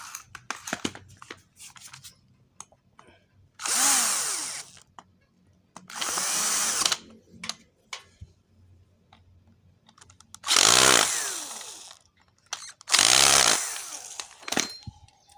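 A power tool, likely an impact wrench or drill, tightens bolts on a motorcycle engine cover in four loud, close bursts of about a second each, separated by quiet gaps with faint background rattle.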